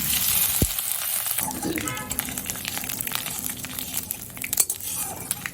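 Oil sizzles steadily in a pan as grated ginger is dropped in with a brief splash after fried green chilies, with light clinks of utensils and some stirring throughout.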